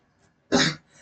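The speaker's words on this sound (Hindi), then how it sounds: "थोड़ी सी खांसी वांसी है यार" A single sharp, loud cough bursts out after a short quiet pause, followed by faint room tone.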